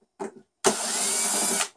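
A power drill whirs for about a second while backing screws out of a Mosquito Magnet trap, preceded by a short handling knock; one close, steady burst.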